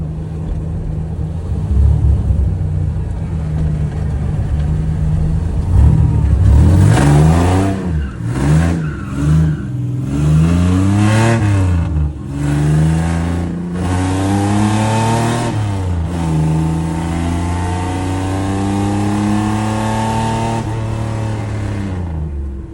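A 1999 Camaro V6 drift car with a T5 transmission accelerates hard through the gears, its loud engine climbing and dropping in pitch with each shift, then settling into a steady, strained drone.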